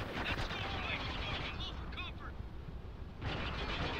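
Gunshots and automatic fire in the shooter game Spec Ops: The Line, a dense, fairly faint volley that continues through the whole moment, with a voice briefly over it.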